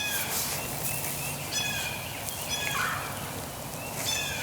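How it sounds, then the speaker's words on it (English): Bird calls ring out outdoors during a spring turkey hunt, a few faint chirping phrases scattered over steady background noise, with no talking. "I don't know what the deal with these birds is."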